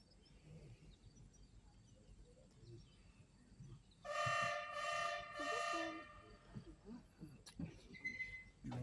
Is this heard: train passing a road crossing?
yes